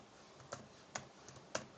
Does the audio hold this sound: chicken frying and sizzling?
no